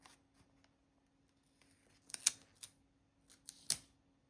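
Scissors snipping a small piece of paper tape in half, a few quiet crisp cuts clustered together in an otherwise near-silent space, close and faint.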